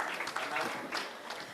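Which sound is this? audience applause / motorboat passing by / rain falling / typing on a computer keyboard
audience applause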